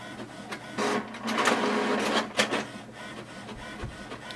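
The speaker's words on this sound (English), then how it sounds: "So here we can see the printer is printing two pages" An HP DeskJet 3637 all-in-one printer prints pages, giving close mechanical whirring, feed clunks and rhythmic carriage passes that rise and fall over several seconds with no talk.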